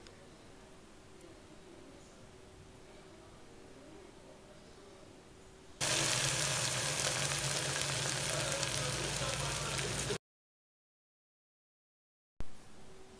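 Green chillies hit hot oil in a pan for egg salna, starting as a quiet sizzle, then bursting into a loud, steady, crackling fry for several seconds before cutting out abruptly.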